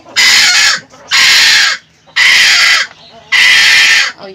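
A Kairali hen on a rooftop gives four loud, close, drawn-out squawking calls, evenly spaced with short gaps between them.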